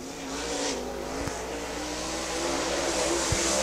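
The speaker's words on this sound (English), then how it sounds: "Jake coming out in that Herald Construction Special Century 21 car down on the back straightaway" Limited late model race car, a Herald Construction Special Century 21 machine, runs down the back straightaway during qualifying, a steady engine drone carrying from a distance with no voices.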